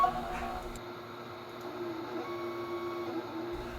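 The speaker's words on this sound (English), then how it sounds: "So the next thing to do is set a reference point for the cutter to start" A craft cutting machine shifts its cutter head to find a reference point at the corner of a plastic sheet, giving a steady, close, low mechanical whir with a soft motor hum throughout.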